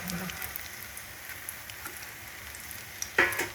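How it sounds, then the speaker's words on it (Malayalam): Small flattened rounds of dough fry in coconut oil with a steady crackling sizzle. A few louder spatters and a brief clatter of stirring come near the end, with no talking. "ആ വെളിച്ചെണ്ണയിലേക്ക് നമ്മൾ തയ്യാറാക്കി വെച്ച ഈ ഇതിൽ വട്ട ചെറുതായിട്ട് പരത്തി ഓരോന്നായിട്ട് ഇതിലേക്ക് ഇടുക"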